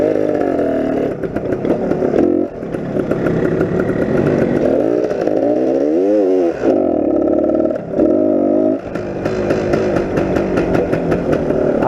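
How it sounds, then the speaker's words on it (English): A classic Suzuki TS250 two-stroke motorcycle engine running rough, a loud close buzzing idle that wavers and dips unevenly, with brief revs rising and falling in pitch. "My bike is definitely not running right."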